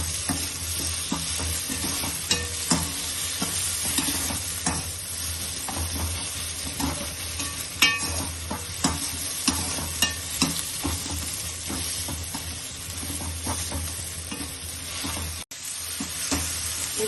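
Brinjal pieces fry in a pan with onion and tomato for a brinjal curry, with continuous close sizzling and repeated scraping and stirring strokes throughout, broken by one brief pause near the end.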